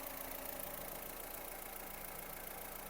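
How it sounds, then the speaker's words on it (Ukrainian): A Ford Fusion engine idles steadily with an even, low mechanical hum, fairly quiet and unchanging throughout. "Двигун працює чітко"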